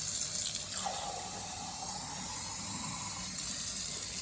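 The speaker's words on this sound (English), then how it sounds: "So I have my glass here. I'm going to fill it up with water." Water runs from a tap into a glass, a faint, steady trickle that holds briefly, with the pitch of the splashing rising slightly as the glass begins to fill.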